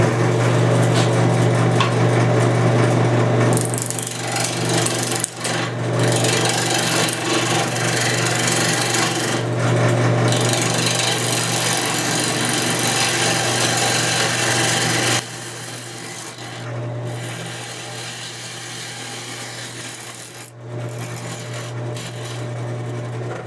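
A burl wood bowl blank spins on a woodturning lathe while a gouge takes the first roughing cuts, a loud continuous scraping and grinding roar over a steady motor hum, with brief pauses and changes in the cut.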